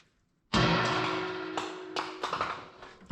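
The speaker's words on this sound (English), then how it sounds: "As you can hear, I clearly made it into the trash can." A sudden loud clattering impact as an old vacuum reservoir from a 1973 Chevrolet is tossed into a trash can, ringing metallically and followed by a few rattling bumps as it settles.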